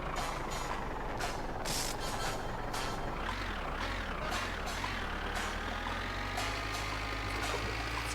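A truck engine idles and revs in the video game My Winter Car, a low rumbling drone with wavering pitch, accompanied by clicks and higher mechanical whine, steady and close.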